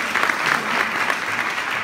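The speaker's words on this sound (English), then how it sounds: "And give them a big round of applause." Crowd at a Greek Independence Day celebration for the Greek American community applauds warmly, a thick continuous patter of many hands clapping throughout, with no speech over it.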